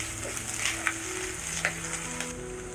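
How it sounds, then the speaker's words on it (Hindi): Garlic, green chilli and ginger gently sizzling in two tablespoons of oil in a pan, a soft continuous crackle with occasional stirring scrapes, close by and without speech. "बिल्कुल हल्का सा इसे सोते कर लेते हैं।"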